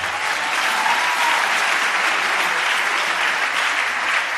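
Congregation applauding in a church, a dense, even roar of many hands clapping at a steady loud level for several seconds, with a faint murmur of voices beneath.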